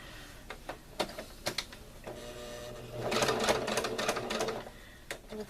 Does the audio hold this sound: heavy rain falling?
no